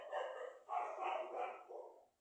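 A dog barks in a quick run of loud, close yaps, about four bursts over two seconds with no talking.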